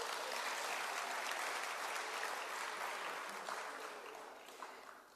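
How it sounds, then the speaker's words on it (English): Dense applause from a large audience at the opening ceremony of a parliamentary plenary assembly, steady and loud throughout, then gradually thinning toward the end. "Can you clap a hand for her?"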